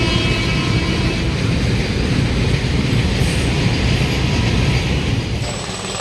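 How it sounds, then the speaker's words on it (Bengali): At a railway station, a train gives off a loud, steady rumble that fills the whole stretch without pause, heavy and close, with no talk over it. "ট্রেনগুলো"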